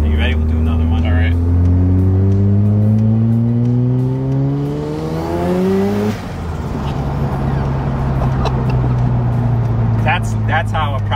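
Mazda FD RX7 rotary engine with an RE Amemiya cat-back exhaust revs up close and loud, its pitch climbing steadily before dropping back to a rough idle, with voices talking over it.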